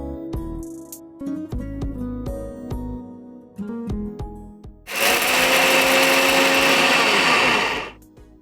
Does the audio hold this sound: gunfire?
no